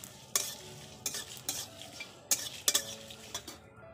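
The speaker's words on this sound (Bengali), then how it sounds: "এবার দিয়ে দেবো মৌরি, জিরে, ধনে, এগুলো ভালো করে ভেজে নেব" Fennel, cumin and coriander seeds fry in hot oil with dried red chillies as a spoon stirs them, giving a close steady sizzle broken by several sharp scrapes and clinks of utensil against the pan.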